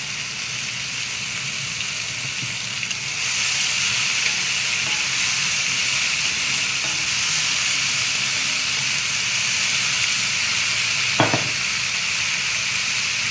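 Capsicum sautéing over low heat in a pan with salt, turmeric and asafoetida, giving an even, steady hiss that grows louder after a few seconds, with a single brief clatter near the end.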